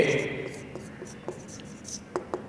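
A pen scratches across paper while an Urdu application to a school principal is written out, giving short, close scratchy strokes in irregular bursts, with a voice faintly present.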